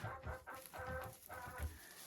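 Hens clucking inside a large, muddy outdoor poultry enclosure, several soft, close clucks in short bursts over a low background hum.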